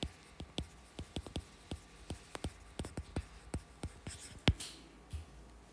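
A teacher writing notes by hand on a board during a lesson: a quiet, steady series of short taps and strokes in a fairly even rhythm, close but soft, with one sharper knock near the end and no talk.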